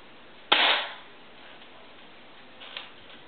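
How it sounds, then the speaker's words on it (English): FAMAS airsoft gun magazine being unloaded: one sharp, loud plastic click-clack release followed by a short fade, then a fainter second click a couple of seconds later, close by in a quiet room. "Sound for unload magazine is like this."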